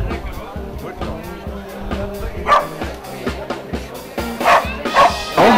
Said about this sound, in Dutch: Lekker Honden nou.